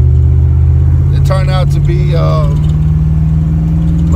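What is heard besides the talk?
1986 Monte Carlo SS engine running after exhaust leak fix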